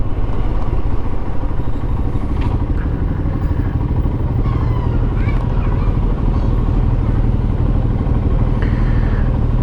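A motorcycle filters slowly through heavy London traffic during a Tube strike, its engine chugging steadily and loudly up close over a constant low road rumble, with faint surrounding traffic noise.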